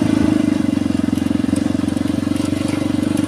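A motorcycle engine idles close by with a steady, even low throb and a slight crackle, continuing unbroken while parked in a shaded spot near trees beside a mosque car park.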